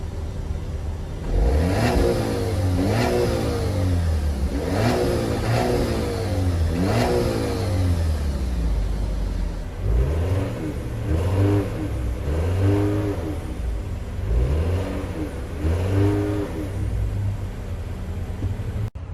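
An Alfa Romeo Tonale TI and a Dodge Hornet GT Plus parked side by side, engines blipped repeatedly in a rhythmic series of rising revs that fall back to idle, loud and close with no talking.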